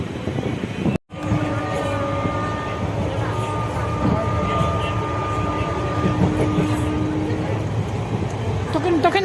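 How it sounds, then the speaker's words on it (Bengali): A passenger train runs on a cloudy, cold day, heard from on board: a constant close rumble with a steady tonal hum and faint rhythmic clatter, with muffled voices underneath. "ট্রেন এসে গেছে আর চেপে গেছি"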